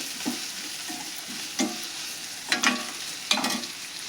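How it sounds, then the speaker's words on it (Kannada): Chutney ingredients frying in oil with salt in a pan, meant to go with dosa; a soft continuous sizzle punctuated by periodic spoon scrapes and taps, close by and without talk. "ಫ್ರೈ ಮಾಡೋಣ್ರಿ."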